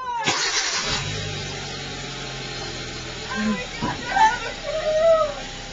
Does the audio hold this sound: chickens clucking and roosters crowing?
no